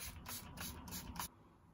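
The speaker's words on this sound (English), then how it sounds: "I'm just gonna swiftly gonna spray my face" Five quick hissing bursts of face spray mist in a steady rhythm, close and fairly faint, followed by quiet.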